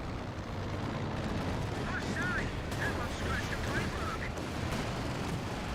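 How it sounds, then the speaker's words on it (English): A Panzerwerfer rocket artillery barrage in Company of Heroes 2 rumbles as a dense, continuous roar of distant blasts, fairly faint, with a few brief whistling streaks on top. "Panzerwerfer barrage running in."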